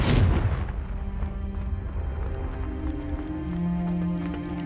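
A Confringo fire spell blasting in the Hogwarts Legacy video game, opening with a loud booming explosion that decays into a rumbling tail, with scattered crackles and a low sustained game tone following.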